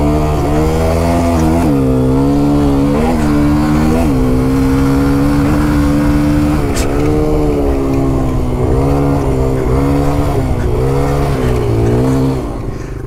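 A loud motorcycle ridden hard on a track, engine revving steadily with repeated pitch climbs and drops as gears shift and the throttle opens and closes through corners, close and continuous throughout.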